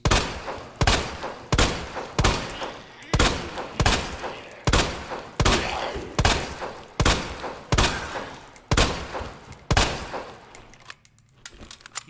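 Leon's handgun in Resident Evil 2 fires about a dozen loud, close shots at a steady, even pace, each with a sharp crack and a short decaying tail, the last shot followed by a brief lull.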